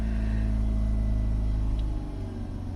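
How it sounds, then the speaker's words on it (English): A Mazda RX8 rotary engine idles steadily with a deep, even low rumble close by, the tone easing slightly toward the end, with a check engine light on. "So this is the car idling."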